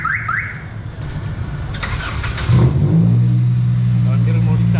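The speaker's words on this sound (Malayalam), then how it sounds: "വണ്ടി റിമോട്ടിൽ സ്റ്റാർട്ടായിട്ടുണ്ട്" A car started by remote starter gives a couple of short alarm chirps, then the engine cranks and catches about halfway through, settling into a steady, close idle hum.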